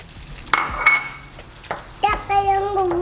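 Salted butter melts and is stirred in a pan with the stove turned off, giving a close soft sizzle with a few scraping strokes and light clinks of the utensil against the pan, alone without talk.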